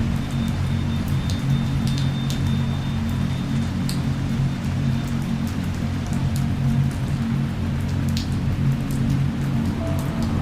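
Steady rain pattering on a surface, a constant wash of drops with occasional louder splashes nearby, no voices.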